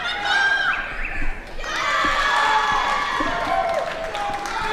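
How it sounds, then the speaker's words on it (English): Spectators cheer and whoop at a judo match at the 2019 Elite Nationals, a loud, sustained wash of crowd noise that swells sharply about halfway through and holds at full volume to the end. "Crowd erupts."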